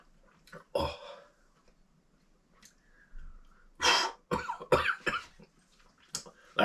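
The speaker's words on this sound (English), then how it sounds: "I'm coughing now." Repeated coughing after a sip of Macallan 12-year-old whisky at a backyard pub-shed bar, with several loud, harsh bursts clustered close to the listener after a quieter, throaty opening.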